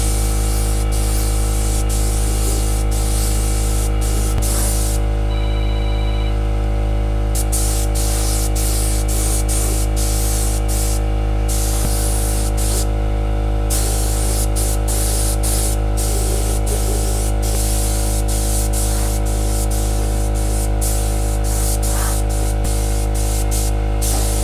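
PPG Omni epoxy primer sprayed onto car parts for a 1962 Ford Falcon, a steady close hiss of the spray gun running almost continuously with a few brief pauses, no talking.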